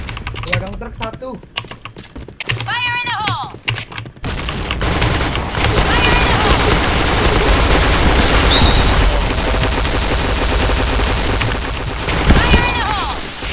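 Gunfire in the shooter game Point Blank, rapid bursts of automatic fire running almost continuously under loud keyboard typing and clicks, with someone talking in places.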